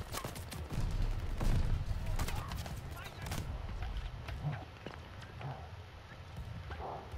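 Gunfire in the Call of Duty: Vanguard campaign, including revolver shots, as sharp repeated cracks and a rattling burst of battle noise that fade into quieter game ambience.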